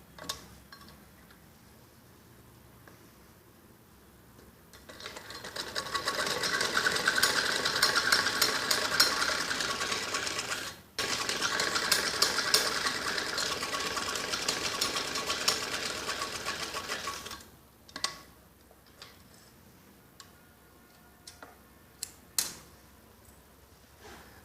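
A sewing machine stitches a kids' skirt top in one steady whirring run of about ten seconds with a momentary stop midway, then a few short clicks and handling sounds.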